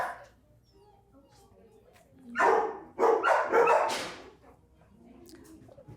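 Dogs at a humane society shelter bark in a short cluster of sharp, close barks, set apart by quiet stretches with faint background noise.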